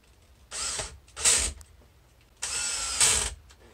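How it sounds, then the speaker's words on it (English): Drywall screws are driven into a wooden frame for a sound absorption panel by a power driver in two close bursts, each rising in pitch as the screw bites, with quiet gaps between. "Now I'm going to put some drywall screws in."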